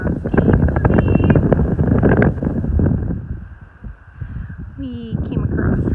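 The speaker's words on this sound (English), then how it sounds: "It's pretty windy." Gusty wind buffets the microphone on an exposed mountain section of the Continental Divide Trail, rumbling loudly and then easing, with a voice talking over it.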